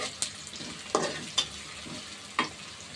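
Chili paste browning in a pan gives a soft, quiet sizzle with a few brief stirring scrapes spaced out, close and faint.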